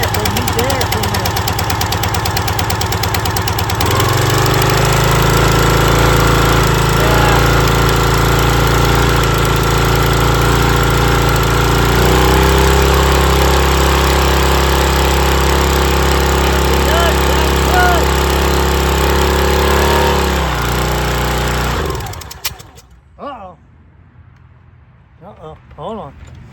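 The gas engine of a log splitter runs loud and steady for about twenty seconds, the pitch stepping up and down a couple of times before it cuts out, leaving faint handling noises.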